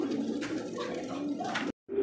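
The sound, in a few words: short face pigeon cooing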